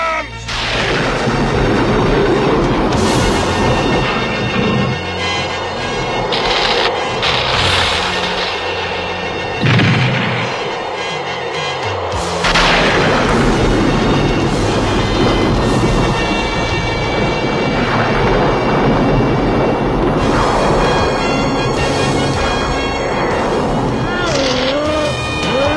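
Rumbling cartoon thunderstorm with repeated booming thunder crashes and a dense roaring backdrop, loud and continuous throughout.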